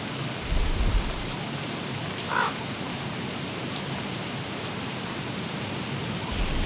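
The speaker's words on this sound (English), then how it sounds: "Nothing quite like a warm fire on a stormy day." Steady rain hisses through a stormy scene in the video game Don't Starve, with a low rumble of thunder near the start and no talk over it.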